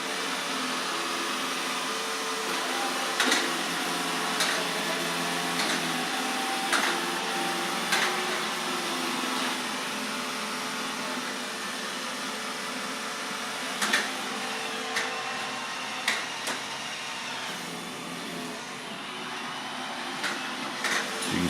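An iRobot Roomba i7+ robot vacuum runs steadily across a tile floor and over a thin throw rug, a continuous mid-level whirring drone with occasional brief clicks and bumps throughout.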